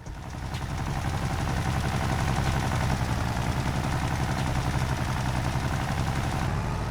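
An old tractor engine pulls a fertilizer spreader in the Farming Simulator 25 video game, a loud, dense, rapidly pulsing chug that holds steady and close throughout, with nothing else heard.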